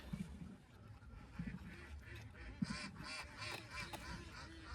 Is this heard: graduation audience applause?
no